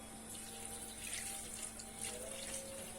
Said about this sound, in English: we'll put more water